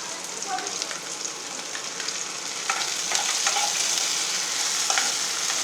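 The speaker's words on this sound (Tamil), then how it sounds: "இஞ்சி பூண்டு விழுதை போடுவோம்." Ginger garlic paste sizzling and frying in a pan: a loud, continuous crackling hiss close up, with scattered sharper pops and scraping stirs throughout.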